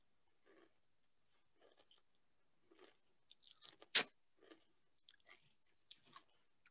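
Crisp crunching bites and chewing of wheat chips, quiet and close, with one loud sharp crunch in the middle and scattered smaller crunches around it.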